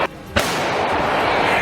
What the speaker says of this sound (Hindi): रूस के सैनिकों ने दुश्मन के ठिकाने पर एक के बाद एक कई जोरदार धमाके किए